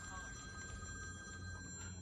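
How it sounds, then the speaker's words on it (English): A telephone rings in a home, a steady electronic ringing tone repeating over faint room noise and low background hum. "It's Chris's phone ringing"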